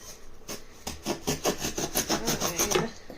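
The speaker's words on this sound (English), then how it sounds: "Basically, I need my hacksaw." A hacksaw cuts through a silicone hand in rapid back-and-forth rasping strokes, close and fairly loud, with roughly a dozen strokes in a steady rhythm and no talking.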